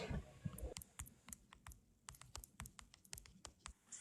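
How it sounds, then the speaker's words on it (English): Quiet, irregular bursts of typing and clicking on a computer keyboard: quick clusters of sharp, close taps with brief pauses between them, heard alone in a calm room. "I just heard you click, click, click, click, click."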